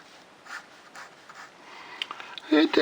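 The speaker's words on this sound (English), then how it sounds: "It's writing with a fine line, writing very nicely as well." A Conway Stewart Universal No 476 fountain pen nib scratches across paper in soft, faint strokes repeating about every half second, with a voice talking at the end.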